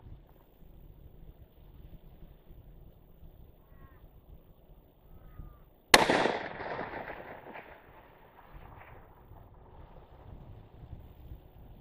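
A single sharp, loud blast from a .300 Win Mag rifle fired at long range breaks a quiet, windy outdoor scene, and its echo rolls away over several seconds.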